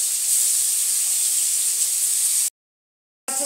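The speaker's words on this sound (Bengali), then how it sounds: "বন্ধুরা মাছটা প্রচুর ফাটতেছে" Fish frying in hot oil gives off a loud, continuous close hiss of spattering that cuts off abruptly, then returns briefly.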